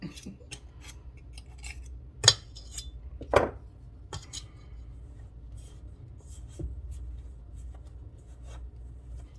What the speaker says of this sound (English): you can do this with a pastry blender